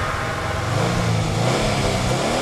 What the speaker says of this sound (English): This is the turbo-assisted boxer-style engine found under the hood of a Subaru WRX.